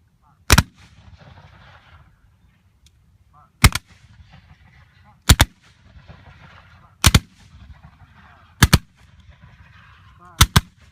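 Historical reenactors at Yorktown firing muskets by file, six sharp loud reports spaced roughly every two seconds across an open field, with faint crowd murmur and outdoor ambience between shots.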